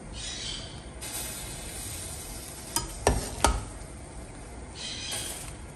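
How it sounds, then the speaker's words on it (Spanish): Vegetables and corn cobs being added to a pot of beef broth, with a steady simmering hiss under a few sharp thuds and splashes as pieces drop in, then the bubbling continues. "La vamos a ir agregando al caldo junto con los elotes."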